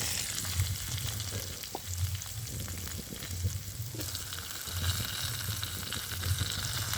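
Potatoes sizzle steadily in spiced oil over a low flame, with soft stirring and scraping noises in a quiet, continuous frying hiss.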